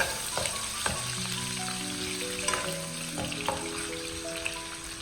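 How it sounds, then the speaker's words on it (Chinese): Chopped ginger and garlic stir-fried over low heat in a wok, giving a continuous close sizzle with occasional scraping stir strokes, and faint steady tones in the background. "接下来把切好的姜蒜放在锅中，开小火煸炒，把姜蒜炒出香味。"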